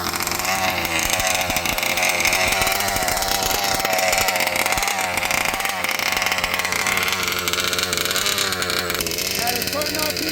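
A 71cc ALX engine revs hard and steadily, a loud buzzing whine with shifting pitch that holds for the whole stretch, close by and unbroken.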